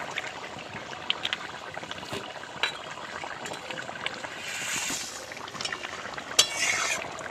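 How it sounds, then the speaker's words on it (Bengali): A spoon stirring fish curry in a pan, giving soft scraping and clinking against the metal over a steady sizzle, close and moderately quiet. "একটু নাড়াচাড়া দিয়ে দিচ্ছি"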